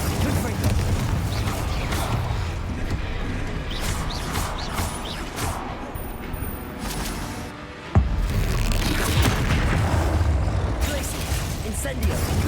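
Incendio and Confringo spell blasts in Hogwarts Legacy come as a dense, loud wash of crackling, crashing bursts and rumbles, with a sharp impact near the middle and busy combat noise throughout.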